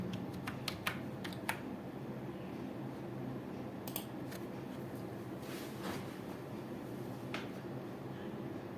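Sharp, sparse clicks of typing on a computer keyboard stand out in short bursts over a steady low room hum, recorded close and fairly quiet.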